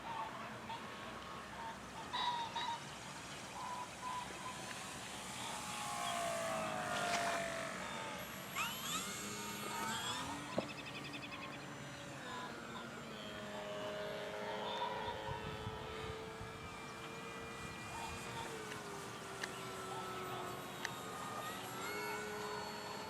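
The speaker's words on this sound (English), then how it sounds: "do a fly by here, slow" A light aircraft, a Cirrus or a Cherokee, makes a slow fly-by with its engine drone rising and falling at a moderate distance. Birdsong and other faint outdoor sounds carry underneath.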